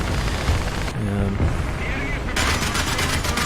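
Heavy tank cannon shots and impacts boom in a World War II tank battle game set in Berlin, with a T-34 under fire, loud blasts and rumbling explosions under a voice talking over the action.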